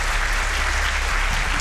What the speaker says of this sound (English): Can we get a cheer for these two guys on the couch?